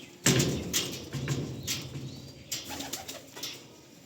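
Pigeons cooing close by in a home loft, with a few flaps and shuffles of wings and soft repeated low coos over about four seconds.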